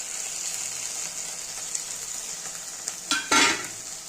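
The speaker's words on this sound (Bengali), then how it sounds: "পেঁয়াজটা ভাজা হয়ে গেছে। এবার আমি মশলাগুলো সব দিয়ে দিচ্ছি।" Chopped onion already fried in a pan as ground spices go in—green chilli, ginger-cumin and garlic paste—hissing in a steady, near sizzle, with a louder burst of frying near the end.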